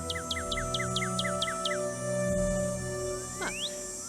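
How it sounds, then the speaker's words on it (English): A recorded Northern cardinal call plays from a cassette in the Nancy Drew game Ghost Dogs of Moon Lake: a rapid series of about eight clear, descending whistled chirps, then a rising slurred whistle, over a steady electronic hum. "Northern cardinal."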